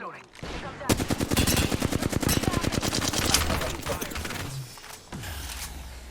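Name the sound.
gunfire in a video game battle royale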